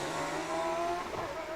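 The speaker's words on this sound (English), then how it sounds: "Hopefully you could hear that car engine then." A hillclimb race car engine at a British Hillclimb Championship round at Wiscombe Park, a steady loud drone with harmonic engine tones shifting in pitch as the car passes, with a hint of tyre noise, no talk.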